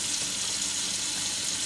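Hot water cornbread fries in hot oil with a soft, continuous hiss and crackle, faint and steady throughout.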